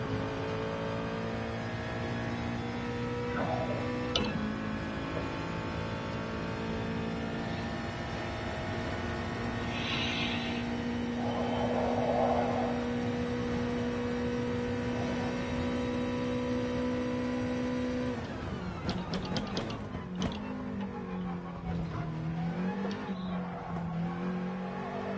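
A race car engine in Gran Turismo Sport at Spa holds a steady high drone that shifts pitch, then drops and climbs again through gear changes. It runs continuous and close with no voices.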